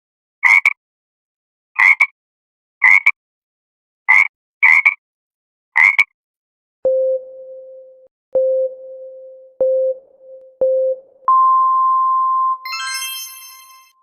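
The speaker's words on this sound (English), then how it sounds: "A frog." Six short, rasping frog croaks about a second apart, followed by steady electronic beeps and a rising ringtone-like tone.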